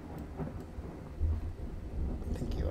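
A rumbling storm builds outdoors with a steady rain wash, deep low thunder rolling and swelling through the middle and holding loud to the end, with no voices heard.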